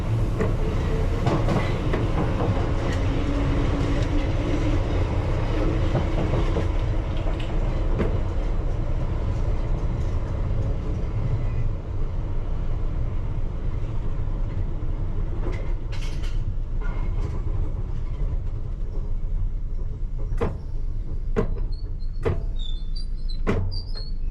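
Piccadilly Line Underground train running eastbound from Acton Town toward Oakwood depot, a loud continuous rumble of wheels on track with rhythmic clickety-clack and sharp rail clicks near the end, no talk.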